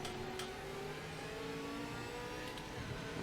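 A race car engine in the video game Project Motor Racing, revving and holding a steady, continuous whine at moderate distance, with no voices over it.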